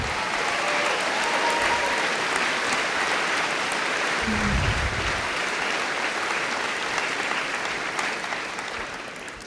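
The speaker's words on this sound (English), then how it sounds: "Let's celebrate with a round of applause" A large audience at a high school graduation ceremony for the class of 2022 applauds in a sustained wash of clapping that holds steady for nearly ten seconds and begins to fade at the end.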